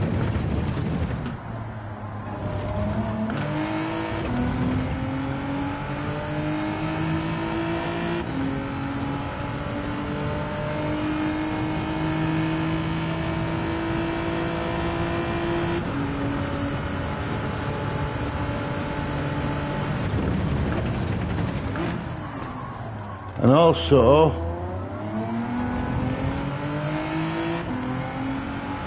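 Racing car engine in a racing video game, revving up through its rev range in long rising tones with brief drops at gear changes, loud and continuous, with a short sharp burst near the end.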